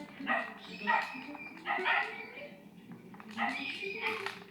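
In a Tintin video game, a dog barks to scare rats: several short yappy barks in separate bursts, with talk heard alongside.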